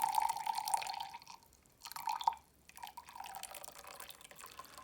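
Water pours into a cup sitting on a kitchen scale, a faint trickling splash that runs in short bursts with brief pauses, close by and quiet.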